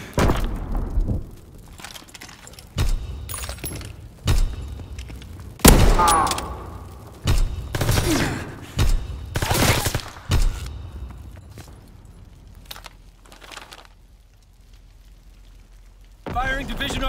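Heavy artillery fire in the Call of Duty video game: loud, booming volleys strike in irregular bursts, some clustered and others spaced apart, with rumbling decay between them and voices at moments.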